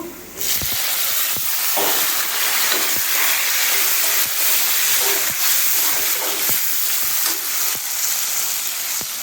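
Loud, steady sizzle and hiss of tomatoes hitting onions frying in hot oil, broken by repeated sharp clicks and scrapes of a utensil against the pan.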